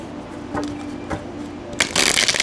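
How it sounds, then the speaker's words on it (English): Tarot cards riffle and slap together in a quick burst of crisp shuffling, with a few softer taps beforehand. "Just give it a one-time shuffle here."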